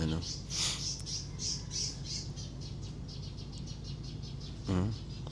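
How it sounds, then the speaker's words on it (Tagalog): Birds chirp and squawk repeatedly in short bright bursts, fairly faint and distant, over a steady low background hum, at Liwliwa Beach in Zambales, Philippines. "pinarinig ko lang sa inyo yung huni ng mga ibon."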